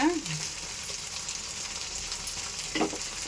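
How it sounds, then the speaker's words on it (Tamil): Prawns sizzle and fry in a hot pan with garlic, a steady crackling hiss up close with a brief stir midway. "பூண்டு போட்டு நல்லா வதக்கிட்டு இப்போ எறா போடலாங்க."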